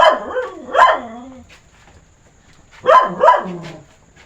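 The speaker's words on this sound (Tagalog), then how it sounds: "Meron parang aso dyan. May aso dito." A dog barks in two short bursts of a few barks each, near and fairly loud, separated by a quiet gap, outdoors at an old ancestral house.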